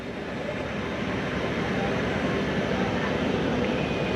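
Passenger train, the Ravi Express from Lahore to Nankana, starting to move from Kala Sattar Shah station: a steady, loud broadband rumble and roar that fills the clip without a break.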